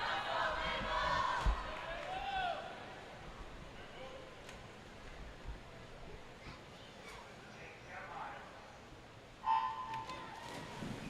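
A crowd at the Canadian swimming trials finals cheers in a large indoor pool venue, an excited swell at the start that fades into a murmur, then rises again briefly near the end.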